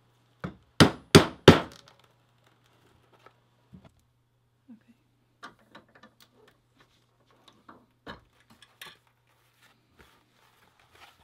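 A plain handheld hole punch strikes leather for a bag: three sharp, loud impacts in quick succession, then sparse faint taps and handling clicks in a quiet room.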